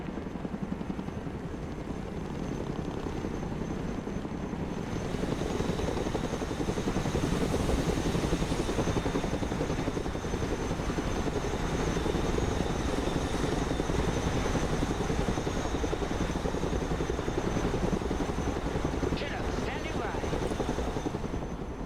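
A heavy military transport helicopter in a Broken Arrow video game drone steadily and loudly for the whole stretch, a dense, continuous rotor and engine roar with no pauses.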